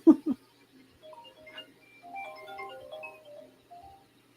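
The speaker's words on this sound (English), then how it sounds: "I have a phone call." An iPhone rings with an incoming call, a soft melodic ringtone chiming for a few seconds after a couple of brief knocks, fairly quiet and close.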